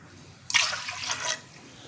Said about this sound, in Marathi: ह्यामध्ये मी आता 2 ग्लास पाणी घालते।